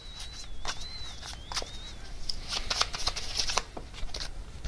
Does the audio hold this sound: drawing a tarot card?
yes